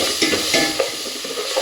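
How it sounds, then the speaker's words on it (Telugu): Masala frying in a little oil and ghee for coconut milk pulao gives a close, steady sizzle with quick stirring scrapes throughout, brief and fairly loud, with no voices. "ఇది మనం పచ్చివాసన పోయే వరకును వేపుకోవాలి, ఫ్రై చేసుకోవాలి."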